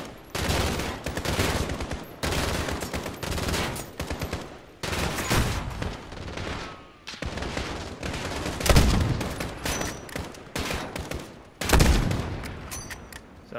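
Sustained gunfire in Modern Warfare 2019, loud bursts of automatic weapons fire with brief gaps between volleys and a couple of heavier impacts, running almost nonstop throughout.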